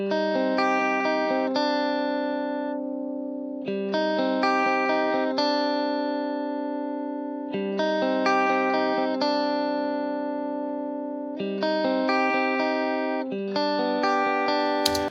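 Electric guitar with a clean tone playing repeated chord patterns, sustained and ringing, loud and close with no talking.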